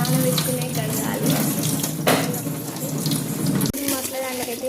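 Tap water runs steadily into a vessel while rice is being washed at a kitchen sink, a continuous splashing rush with brief changes in flow and a voice talking faintly underneath.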